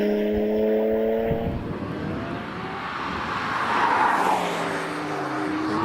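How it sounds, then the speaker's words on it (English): BMW 335i racing car with a 3-litre turbocharged engine climbing a hillclimb course at Harewood, its engine note rising and falling through gear changes as it passes, loud at first and then receding into the distance. "Now we've got Peter Vincent in the BMW 335i, 3-litre turbocharged engine."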